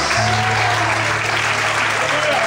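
A church congregation claps steadily at a worship service, a dense, continuous wash of applause filling the room at close range with no break.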